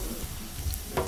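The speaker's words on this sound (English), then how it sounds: "So we put garlic, it's browning." Garlic browning in a hot pan for paella gives a soft, steady sizzle with a few stirring scrapes, close and moderately quiet, with no talking.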